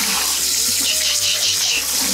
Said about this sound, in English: we're gonna dump it and we're gonna rinse it all around